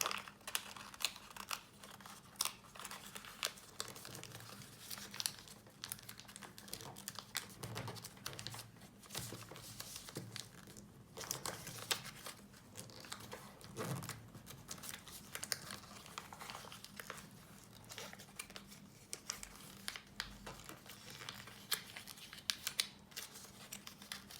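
Origami paper being folded into a star-shaped pinwheel, with steady close crinkling, creasing and papery taps running throughout at a low, even level and no talk.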